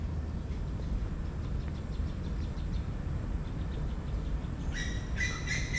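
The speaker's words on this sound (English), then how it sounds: "And also the chirping of birds." Birds chirp in Fort Canning Park, first as faint scattered tweets and then as a brighter, closer burst of rapid calls near the end, over steady outdoor background noise.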